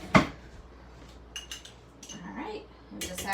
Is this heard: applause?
no